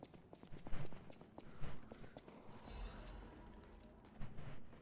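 Footsteps thud and scuff unevenly in the Lies of P game, heavy and fairly close, mixed with rumbling ambience.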